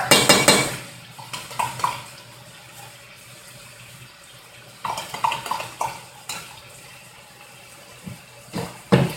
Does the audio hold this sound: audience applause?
no